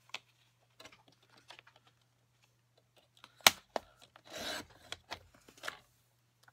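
Cardstock is trimmed with a paper cutter for a handmade card. A sharp slicing snap stands out among quiet scattered taps and rustles, followed by a brief scraping slide, in a quiet room.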